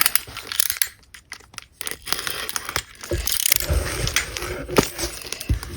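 Crinkling plastic and paper crackle as a package of souvenir cards and envelopes is opened up close, with dense scraping and tearing bursts and brief quieter pauses.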